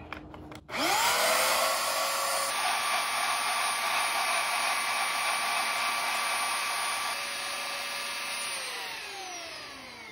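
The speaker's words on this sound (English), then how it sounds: "we'll follow up with the hand sander" An electric hand sander starts abruptly on wood and runs with a steady, high-pitched whine for several seconds, then winds down slightly near the end.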